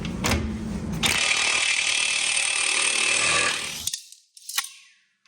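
Ratchet wrench with a 29mm socket breaking loose a tight axle nut on a Mazda Miata, a sustained bright grinding rasp for about three seconds, followed by a few short metallic clicks and knocks.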